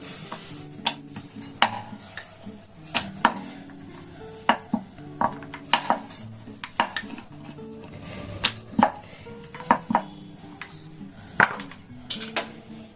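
A knife cuts through rolled paratha dough on a board, a run of irregular sharp taps and knocks, some in quick pairs, close and fairly crisp, with a faint background hum and no talking.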